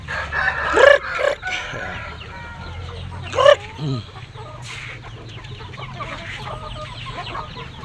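Gamefowl roosters kept in cages crow loudly in two prominent bursts, with softer clucking and scattered farmyard sounds continuing underneath.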